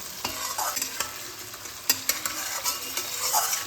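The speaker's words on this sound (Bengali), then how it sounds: "টমেটোটা নরম না হওয়া পর্যন্ত আমি এটাকে ভাজতে থাকবো" Quartered tomatoes fry with chilli in a pan with a steady sizzle and a scattering of spatula clinks and scrapes. Several of the clinks are close and distinct.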